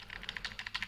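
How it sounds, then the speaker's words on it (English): Computer keyboard keys, including the space bar, pressed in quick irregular succession while working in vvvv software; about a dozen light, close clicks with no talking. "then press space to select it"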